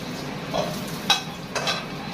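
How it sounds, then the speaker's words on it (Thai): Garlic frying in a pan, a soft steady sizzle with a few stirring scrapes and one bright utensil clink, close and without talk. "เจียวกระเทียม"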